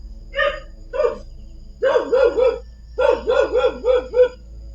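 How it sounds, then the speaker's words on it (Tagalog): A dog barks repeatedly nearby: two single barks, then two quick bursts of several barks each, with quiet gaps between. "Ayun, aso yan."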